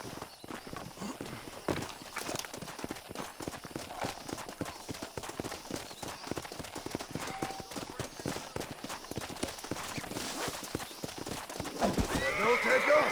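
Horse hooves clip-clop steadily and a wild horse whinnies in Red Dead Redemption, with someone speaking over the hoofbeats and the sounds growing busier toward the end.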